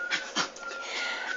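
A playing Staffordshire bull terrier gives short breathy whimpers and grumbling pants, two quick squeaky bursts followed by a thin sustained whine, close and moderately loud with no talking.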